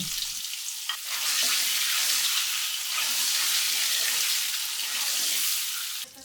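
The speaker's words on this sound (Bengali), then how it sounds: "তেল, লবণ, হলুদের গুঁড়া দিয়ে ডিম ভেজে নিতে হবে" Boiled eggs sizzle steadily in hot oil with salt and turmeric powder, a dense continuous frying hiss close by, with a brief stirring scrape near the start.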